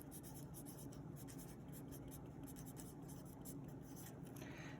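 Pen writing on paper while working through a math exam problem: close, continuous scratchy strokes with small pauses between letters. No voices are heard over it.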